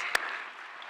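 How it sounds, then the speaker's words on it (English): A brief burst of applause for graduates at a 2022 graduation ceremony, with one sharp clap standing out near the start before the hands fade into a soft, diffuse patter. "Huge round of applause."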